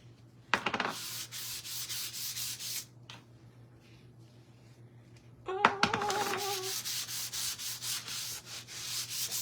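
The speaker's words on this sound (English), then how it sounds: "let's add some wax on it so I don't accidentally mess it up" Wax being rubbed by hand onto painted wood, making a steady dry scrubbing rasp in long repeated strokes that pauses midway, then resumes slightly louder with a brief squeak as it restarts, close and fairly faint.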